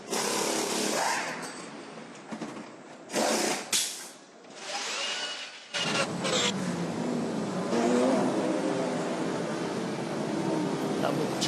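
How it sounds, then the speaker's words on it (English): The number 20 BMW endurance race car wheel-spins out of its pit stop during the 6 Hours of Sao Paulo, its engine screaming and revving hard in loud bursts that settle into a sustained high roar, with commentary talking over it. "Number 20 BMW wheel spins away from its pit stop"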